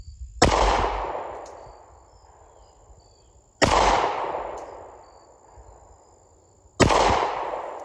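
Three loud, close pistol shots from a Springfield XDS Mod 2 3.3 .45ACP fired at a steel target, spaced about three seconds apart, each a sharp crack with a long decaying echo and a faint metallic ping.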